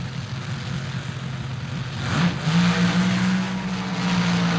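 Two drag racing cars, driven by Shirley Muldowney and John Rodek, roar down the strip at the 1976 NHRA World Finals, a loud sustained engine drone that swells partway through and holds high to the end.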